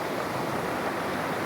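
Steady, continuous rush of water, a broad hissing roar with no pauses, fairly loud and close.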